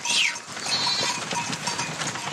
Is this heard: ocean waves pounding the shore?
no